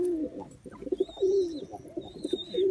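Kashmiri pigeons coo nearby in soft, repeated throaty warbles, with a thin high whistle faintly in the background.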